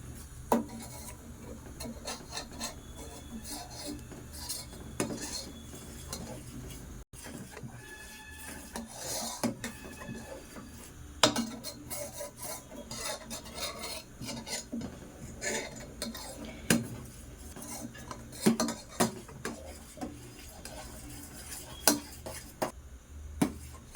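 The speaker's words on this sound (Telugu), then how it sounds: "ఇలా గరిటతో తిప్పుతూనే ఉండాలండి." A ladle stirs and scrapes milk in a pot as it reduces to khoa with cardamom powder, giving close, irregular rasping strokes against the metal with occasional clinks and no talking.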